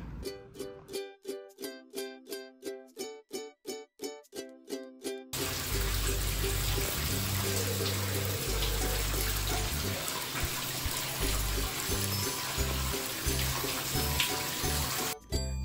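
Tap water runs for a bath at home. It follows a quick series of sharp, regular ticks, then gushes steadily and loudly for about ten seconds.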